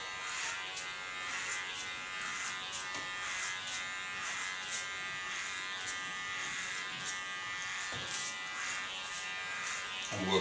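Hair clipper shaving the nape and neckline during a haircut, a steady close electric buzz running throughout with fine rhythmic variations as it moves over the hair.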